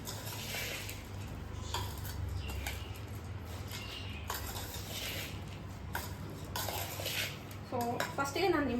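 A spoon stirs and scrapes through puffed-rice belpuri in a bowl, soft repeated rustling with light clinks of metal against the dish, close and fairly quiet, with a few sharper knocks near the end.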